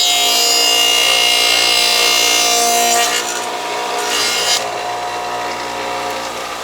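A dado stack on a 12-inch table saw cuts a dado through sanded plywood, a steady loud whining rasp of wood being cut that changes and drops off partway through as the blade clears the board.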